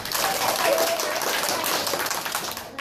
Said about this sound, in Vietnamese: Rồi tuyệt vời, vỗ tay nào, vỗ tay nào.